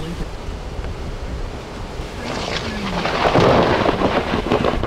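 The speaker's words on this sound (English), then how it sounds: "A large tornado!" A large tornado on the ground inside a rain curtain near Hallam, Nebraska, in 2004, heard as a loud, steady roar of wind and rain that swells stronger in the second half, with a faint voice underneath.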